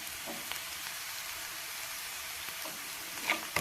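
Onions sautéing in a pan for drumstick leaf poriyal give a steady, soft broadband sizzle, continuous and close, with a couple of light clinks near the end and no talking.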